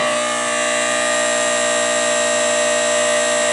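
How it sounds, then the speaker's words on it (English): An old Ericsson telephone switchboard buzzer sounds on an incoming call from a battery phone, a steady, harsh, rich buzz held unbroken and loud for the whole stretch. "When someone goes off hook on an essential battery phone, it makes the dial's eyes come down and the buzzer sounding."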